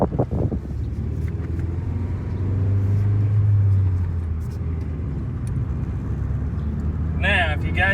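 A manual car, bought for ten dollars and warmed up to temperature, pulls away in first gear with a steady low engine rumble rising slightly in the middle, close by, ending with a brief clatter.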